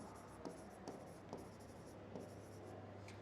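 Pen strokes on paper while accounting entries are written out for a Class 11 accountancy lesson, a few faint scratchy bursts spaced about half a second apart, quiet and close with a steady low hum underneath and no talking.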